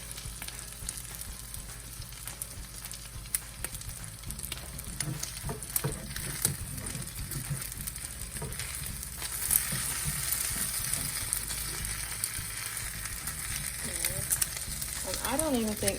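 Omelet sizzling and frying steadily in a pan, a continuous close crackle and hiss with faint stirring or utensil touches throughout.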